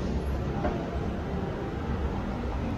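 Train at a Bangkok MRT station: a steady low rumble and hum of rolling stock fills the platform continuously, with no clear voices.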